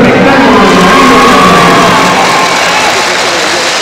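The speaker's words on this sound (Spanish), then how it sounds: "Le dejamos el aplauso" A crowd at a charro competition in Zacatecas cheers and claps as a loud, continuous roar with shouts and whoops, while an announcer speaks over it.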